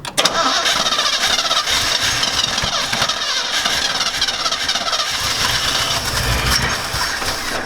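A Chevy TBI engine with a freshly rebuilt HEI distributor cranks and catches, then runs roughly at a mid-pitched idle with uneven sputters and pops, loud and close with no talking.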